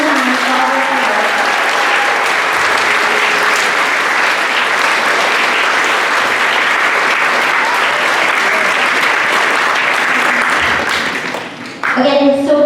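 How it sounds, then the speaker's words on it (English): A school auditorium audience claps steadily for middle school band students after a holiday concert, a loud unbroken wash of applause that tapers and stops near the end. "Let's give all the students a round of applause one more time for all their hard work"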